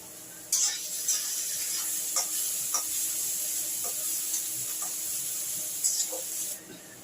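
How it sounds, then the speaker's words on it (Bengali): Onions softened with a pinch of salt sizzle steadily in a pan, a continuous close frying hiss broken by a few soft stirring taps and scrapes. "দেখুন আমার পেঁয়াজগুলো কিন্তু ভাজা হয়ে গেছে"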